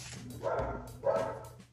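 Several dogs barking from another floor of a house, bursts of muffled, distant barks in two clusters with a sharp yelp at the end, no voices over them.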